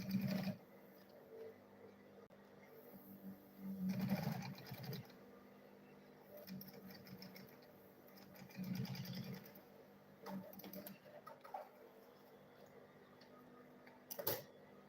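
A sewing machine stitches a school bag in short, quiet bursts of whirring, each run lasting about a second, with pauses and soft handling sounds between them.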